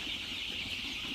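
A flock of young Andijan black hen chicks makes a faint, continuous high-pitched cheeping chorus, heard briefly from a short distance.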